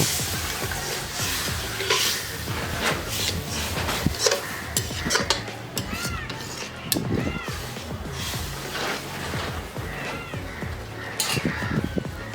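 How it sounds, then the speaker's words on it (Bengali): Lentil dal being stirred with hot water in a cooking pot for Bengali kalai chingri dal, with steady clinks and scrapes of a utensil against the pot running throughout, fairly close and moderately loud. "এবারে ভালো মতো নাড়াচাড়া করে সবকিছুকে মিশিয়ে নিয়ে কিছুক্ষণ ফুটতে দেবো"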